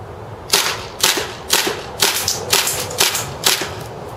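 A 1911 carbine airsoft gun firing propane-powered BBs from a WE magazine lets off seven evenly spaced sharp cracks about half a second apart, loud and close, with no talk.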